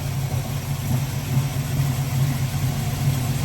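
An El Camino engine, restarted after sitting for eight years, idles steadily and close by with a low, even rumble and a slight irregular pulse throughout.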